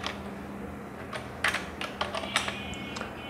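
Scattered keystrokes on a computer keyboard while CV text is edited, soft irregular clicks over a steady low hum, with no voices.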